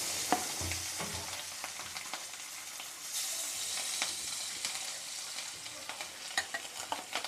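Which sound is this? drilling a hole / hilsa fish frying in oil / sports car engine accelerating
hilsa fish frying in oil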